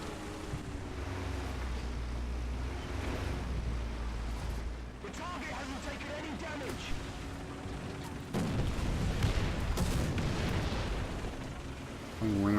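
Artillery shells slam around an M4A3 105 tank in War Thunder, a dense, continuous roar of booms and rumbling blasts with heavier impacts toward the end, loud and close throughout.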